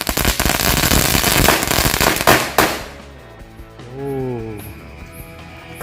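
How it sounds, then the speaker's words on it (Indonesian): A Nagator egg firecracker bursts in a loud crackling barrage of pops for about two and a half seconds during a Ramadan night fireworks session, then cuts off, leaving a faint whistle and a distant voice. "yang selanjutnya kita nyalain mercon telur Nagator."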